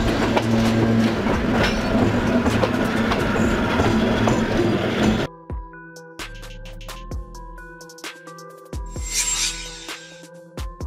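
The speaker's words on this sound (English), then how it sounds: "He is a steam locomotive and the main character in the series Thomas and Friends" Train running on rails, first a loud dense rumble with rhythmic clatter, then a sudden drop into quieter rhythmic wheel clicks and squealing tones, close and alone.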